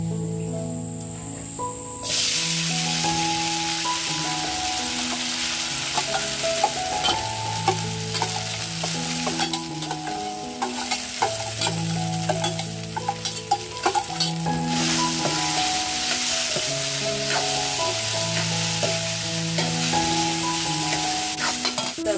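Sabudana fries with cumin and curry leaves in a pan over a wood-fired chulha while being stirred, a constant loud sizzle layered with shrill repeating tones and brisk scraping stirs throughout.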